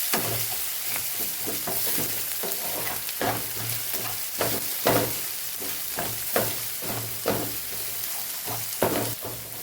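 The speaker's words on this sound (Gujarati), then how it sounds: "આપણે આદુ લસણ ને સાતડી લેવાનું છે" Ginger and garlic sauté in a pan with a steady, close sizzle, broken by regular scraping stirs that come every second or so, and no voices.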